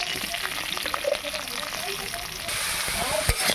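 Chopped, boiled hinche shak frying in a pan gives a dense, steady sizzle up close, broken by a few soft spatula scrapes and taps, holding level to the end.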